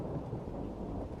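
Steady heavy rain with a low rumbling storm wash on a stormy night, continuous and enveloping with no gaps or distinct cracks of thunder.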